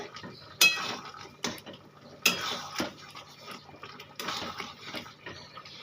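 A spoon stirs mung dal with poppy seeds in a metal pan, giving intermittent scraping clinks and taps at an irregular pace, close and moderately loud, with no talking.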